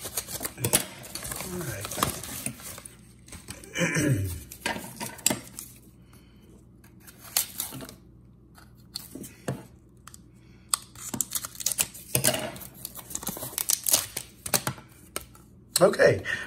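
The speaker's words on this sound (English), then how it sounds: "let's rip this open and see what we got" A mail package is ripped open with bursts of tearing, crinkling and rustling packaging, close by and broken up by pauses, while someone speaks briefly.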